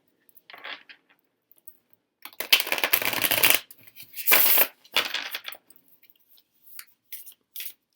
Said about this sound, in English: We're just going to go ahead and shuffle it into the deck.